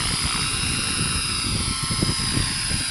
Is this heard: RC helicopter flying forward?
yes